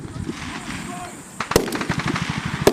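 Gunfire rings out during a military fire-and-move drill, with a sharp close shot followed by a quick series of rapid bursts and scattered reports, amid outdoor background noise.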